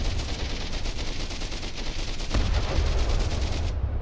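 Rapid, sustained gunfire from naval-style cannons in a video game, firing continuously with dense repeating shots throughout, loud and close, getting slightly heavier partway through.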